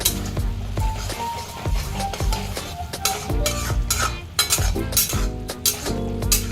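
Mustard pomfret masala with turmeric and cumin powder being stirred and sautéed in a pan, loud repeated scraping and clinks of a spatula against metal over a soft sizzle, close and rhythmic.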